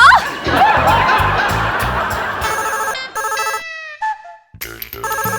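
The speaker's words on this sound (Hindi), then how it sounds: "अरे उठा लो सब्बरवाल फैमिली, फोन उठा लो।" A phone rings in repeated electronic bursts, with a busy stretch of chatter and laughter at the start before the ringing takes over.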